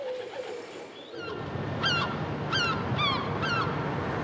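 Gulls calling in Paris: a run of about five short, harsh, repeated cries spaced roughly half a second apart over a steady bed of city noise.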